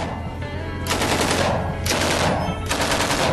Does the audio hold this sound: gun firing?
yes